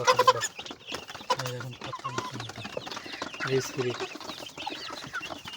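Two-month-old broiler-type chickens on a farm cluck in short bursts near and around, with scattered clucks and rustling among faint background talk.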